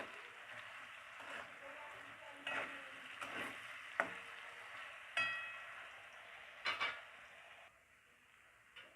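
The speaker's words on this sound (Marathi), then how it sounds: "मीठ टाकल्यानंतर पटकन बटाटा फ्राय होतो" Potato pieces frying with salt in a pan for sabudana khichdi, a soft sizzle with several scraping stirs and clinks of a spoon against the pan, fairly quiet and close.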